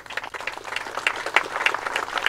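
A full-house audience applauds at a Norwegian national championship final in figure shooting: dense, steady clapping that holds at an even level for the whole stretch, with no voices over it.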